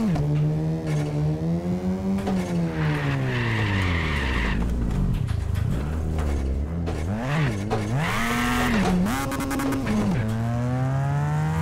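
Mazda RX7 drifting in a video game, engine howling loudly and continuously with its pitch swooping up and down while tires squeal in bursts throughout.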